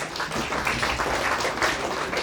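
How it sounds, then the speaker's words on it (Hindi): A lecture audience applauds a medical student, many hands clapping in a dense, even patter held at steady loudness throughout. "तालियां बजाइए इनके लिए।"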